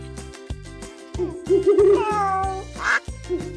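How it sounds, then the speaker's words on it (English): Toy animal sounds in the Mother Simulator video game: a loud cartoonish meow and a quack, heard alone over a bouncy, rhythmic game tune with repeated plucked notes. "Owl, cat, duck."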